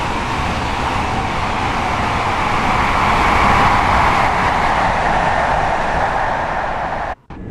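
A Class 158 diesel train passes in the Train Sim World 6 simulator, a loud sustained rushing roar of wheels and engine that swells and holds for several seconds before cutting off abruptly.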